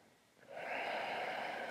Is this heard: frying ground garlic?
no